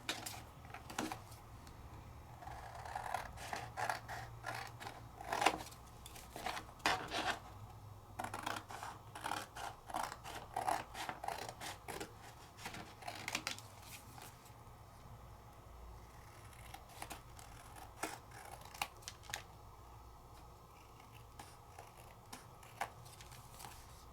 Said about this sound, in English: Let's trim it out.